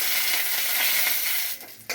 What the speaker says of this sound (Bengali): আমি নারকেলের চাটনিতে একটু তড়কা লাগিয়ে নেব